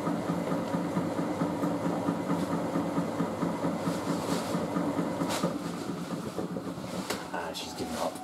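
A Miele W562 Prestige Plus 6 washing machine spins a load of bathrobes at 250 RPM, shaking as it turns. A steady, close mechanical rumble carries a rhythmic knocking clatter that eases slightly toward the end.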